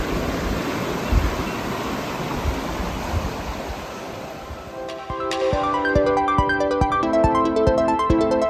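Creek water rushes steadily along an Ozarks hiking trail, a broad close hiss of flowing water that carries the whole stretch, with bright tonal sounds entering partway through.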